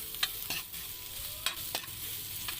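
Chopped ginger sautéing with garlic in a hot pan for Filipino papaitan, a soft steady sizzle broken by several sharp stirring scrapes, close and quiet with no talking.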